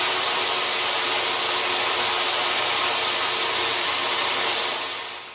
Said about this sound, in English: it cuts 3/4-inch plywood without a hitch and doesn't slow down